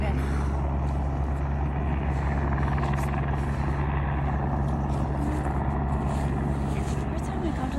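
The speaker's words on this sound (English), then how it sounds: "there's a helicopter" A helicopter flying over a park, its low steady rotor drone loud and continuous throughout, with a voice heard over it.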